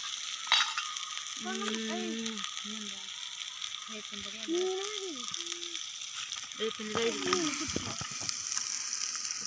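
Onion, ginger and garlic sizzle softly in a pan at an outdoor riverside cooking spot, a steady low hiss under several tonal chirps that may be birds, with occasional clicks.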